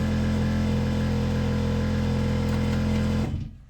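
An air compressor in a 1949 Chevy Styleline Sport Coupe runs with a loud, steady mechanical hum and buzz, then cuts off near the end, leaving quiet.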